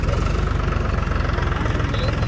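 Tractor engine idling in a village in the evening, a steady close rumble with a knocking low throb that carries on unbroken, with no voices.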